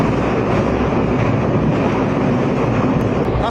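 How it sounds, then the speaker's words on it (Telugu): Loud, steady rumble of a loco train riding through the SLBC tunnel, a continuous dense roar with rattling and wind buffeting throughout, no pauses. "ప్రస్తుతం మనం ఎస్ఎల్బీసీ టన్నెల్లో లోకో ట్రైన్ లో ప్రయాణిస్తున్నాము."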